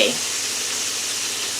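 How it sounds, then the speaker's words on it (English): Chicken livers fry in hot oil in a pan, a steady close hiss of sizzling that holds evenly throughout. "let's check on our chicken livers. I hear them frying"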